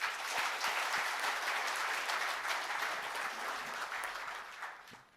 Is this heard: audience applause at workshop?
yes